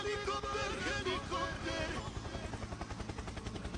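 A Roblox helicopter's rotor chop thuds steadily, mixed with game sound effects, moderately loud.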